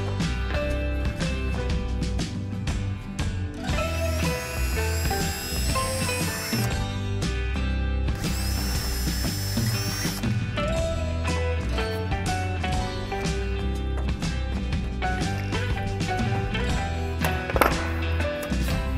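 Power drill repeatedly drilling holes out to 3/16 inch in an aluminum bracket on a CH-750 aircraft horizontal stabilizer, with two long high whining bursts among dense clattering, tapping and handling noise close by.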